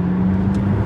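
McLaren MP4-12C engine accelerating, a close, steady motor drone with a low hum, lasting under a second with no talk.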